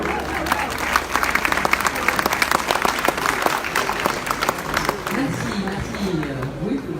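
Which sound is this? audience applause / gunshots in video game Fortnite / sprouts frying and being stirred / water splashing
audience applause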